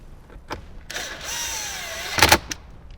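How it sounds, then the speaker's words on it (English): A power tool runs in several short bursts, driving small 7mm bolts back into a 2007–2018 Jeep Wrangler JK during a Kicker amp and subwoofer install, with a longer whirring run in the middle and a rattling burst near the end. "So I'll get the 4 7mm screws or bolts back in."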